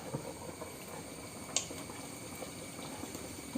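Sweet pachor mixture, lightly salted, simmers and thickens in a pot, giving off a faint, steady bubbling hiss with one small clink partway through.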